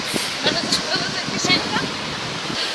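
A mountain waterfall in the Carpathians gives off a steady rushing roar, heard up close while a person talks over it.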